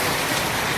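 Steady rain falls outdoors in the Dzongu area of Sikkim, a dense, even hiss of drops that fills the scene without a break and with no voices over it.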